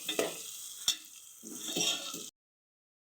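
Food for a potato pulao with chili powder is stirred in a pan, quiet sizzling broken by a few sharp scrapes of a spoon, then cutting off into silence.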